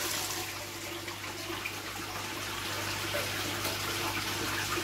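Steady watery rushing and trickling fills the whole stretch as a KH solution is slowly added to aquarium water, a continuous close liquid wash with no voices.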